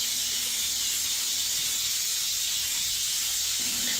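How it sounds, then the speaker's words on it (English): Continuous high hiss of a vapor steamer sanitizing tile grout lines during an apartment move-in cleaning, steady and close, with no talking. "use our vapor steamers to sanitize and try to clean all the lines"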